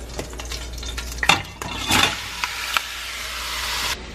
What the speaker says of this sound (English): Now in goes all the pork cubes.